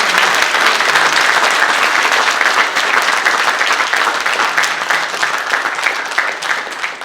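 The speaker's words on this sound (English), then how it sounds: "Let's give him a round of applause." A church congregation at a Smyrna UMC special song service applauds steadily and loudly for about seven seconds, a dense wash of clapping that tapers slightly at the end.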